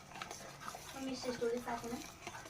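A spoon stirs cashew masala with fried cashews in a pan. Soft, intermittent scraping and stirring sits quietly beneath a person talking.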